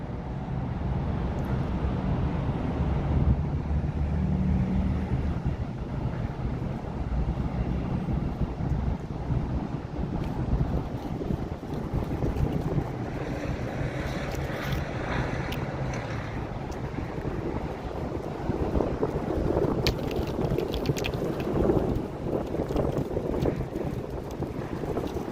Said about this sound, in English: The wind's getting pretty bad up here.